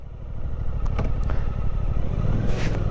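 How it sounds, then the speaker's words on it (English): A Suzuki GSX-8R motorcycle sitting in neutral gives a close, loud engine rumble with a few quick blips of the throttle and a rising rev near the end. "I can rev in neutral."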